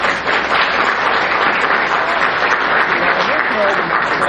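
Concert hall audience applauds members of the Valdosta Symphony Orchestra, a loud, dense, continuous clapping that carries on evenly with a few voices mixed in.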